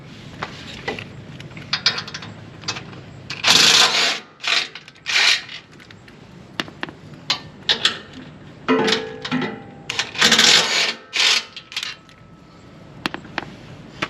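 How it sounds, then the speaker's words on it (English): Ratchet wrench with an 18 mm socket loosening front differential bolts on a cross member during a skid plate install, bursts of rapid clicking and metallic rattling, close and fairly loud. "Next, we'll use the 18 millimeter socket to remove the front diff bolts from the cross member"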